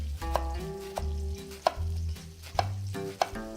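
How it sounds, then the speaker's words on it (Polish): Potatoes sizzle steadily in hot oil in a pan, with a few sharp clinks of a utensil stirring at irregular intervals. "Jeszcze trochę oleju ziemniaczki mi się smażą"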